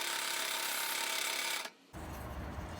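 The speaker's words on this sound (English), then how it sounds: "We're just going to use a 40 grip belt, nice coarse belt on it." A belt grinder fitted with a coarse 40 grit belt shapes a handle for a leather strop, a loud, even abrasive roar that cuts out briefly before a rougher grinding noise resumes.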